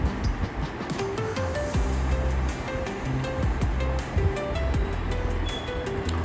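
Chicken sukkha masala in Agri Koli style is stirred and sautéed in a pan, giving a continuous dense sizzle and frying hiss with scattered clinks, close and steady, with no voices.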